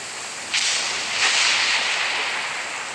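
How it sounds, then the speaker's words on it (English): Rain falls in Genshin Impact as a steady, hissing wash of noise that swells slightly in two soft surges, heard alone with no talk. "Let us find shelter from the rain."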